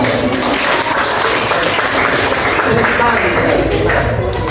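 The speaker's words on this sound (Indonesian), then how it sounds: "Aplaus." A classroom of students applauding, a dense burst of clapping that carries on steadily for several seconds.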